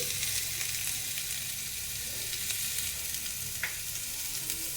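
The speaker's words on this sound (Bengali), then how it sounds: "নেড়ে ভাজা ভাজা করে নেবো আলু বেগুনটা" Potato and eggplant stir-frying in a pan give a steady, dense sizzle throughout, with faint scrapes of stirring and a brief clink near the end, no voices.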